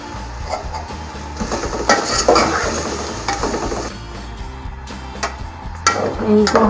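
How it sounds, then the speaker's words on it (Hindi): Shredded cabbage with other vegetables frying in a pan, a hissing sizzle broken by repeated scrapes and clinks of a utensil against the pan, loud and close, with a faint murmur in the background. "इनको हल्का सा आपने फ्राई करना है।"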